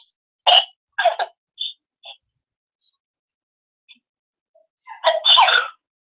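Several short, breathy coughs and throat noises in quick bursts, separated by silence, with a longer cluster of coughing near the end.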